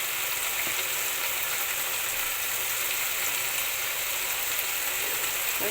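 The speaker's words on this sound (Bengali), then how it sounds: "এখন সবগুলোকে আমি নেড়ে ছেড়ে কষিয়ে নেব" Meat coated in chili and turmeric powder fries in a pan, giving a dense, even, continuous sizzle that holds at one level throughout, with faint stirring underneath.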